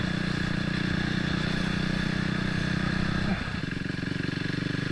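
A KTM RC390 motorcycle engine runs steadily at a high, buzzy pitch, then drops slightly in revs near the end, loud and close with no talking.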